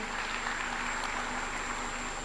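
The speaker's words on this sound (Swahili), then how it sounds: "Makofi" Applause at a State House reception in Nairobi hosted by President Ruto for the Harambee Starlets women's football team, after a signed jersey and ball are presented. A steady, dense wash of clapping fills the whole moment at even loudness.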